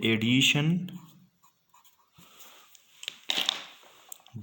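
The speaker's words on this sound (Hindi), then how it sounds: "मैं आपको बस एक फाइनल जुमला लिख रहा हूँ इसका" A sentence being written on a board, heard as short scratchy strokes and taps close by, following a brief spoken phrase at the start.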